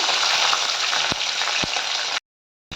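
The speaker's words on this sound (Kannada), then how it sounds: "ನಾನು ಮತ್ತು ಹಸಿಮೆಣಸಿಕಾಯನ್ನು ಹಾಕ್ಕೊತಾ ಇದ್ದೀನಿ" Green chillies fry in a hot pan for palak dal with a loud, dense, continuous sizzle and a few brief stirring knocks, then a sudden cut to silence before the sizzle briefly returns.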